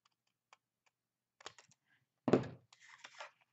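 Scissors cut a paper template from mark to mark in a quiet room, with sparse light snips followed by a louder crisp cut and a short rustle of paper.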